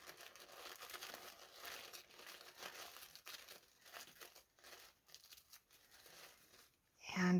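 Soft crinkling and ripping of a paper napkin being torn by hand for decoupage in a mixed media journal, faint and close, in irregular bursts, with a louder rustle at the very end.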